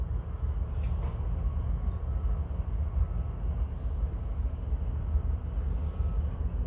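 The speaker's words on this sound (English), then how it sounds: "They've got the third of three derailed locomotives hooked up and trying to get it back up" Recovery of derailed NS locomotive 3601 being lifted back onto the track comes through as a continuous low, heavy rumble of machinery and rail equipment, heard from a distance, with no talking.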